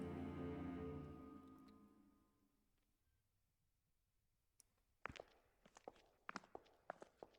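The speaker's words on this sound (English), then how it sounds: "We headed through the hospital, with just our footsteps making any sound." Footsteps echo through a hospital in a video game, a quiet run of separate, sharp steps that start after a fading tone and keep an irregular walking pace in near silence.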